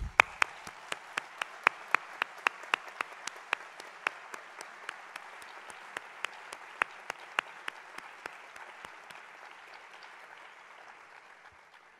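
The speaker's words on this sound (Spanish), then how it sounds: "me gustaría que les diéramos un fuerte aplauso como agradecimiento a su dedicación" Sustained audience applause at an evening awards gala held against gender violence in Móstoles, steady crowd clapping with a few sharp individual claps standing out, gradually thinning and fading toward the end.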